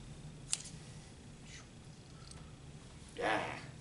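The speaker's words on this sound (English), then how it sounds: "Then I'm going to cut that string down." A string is cut in a quiet room, probably with scissors: a faint, sharp snip, then a few soft rustles and a slightly longer scrape near the end, all at low level.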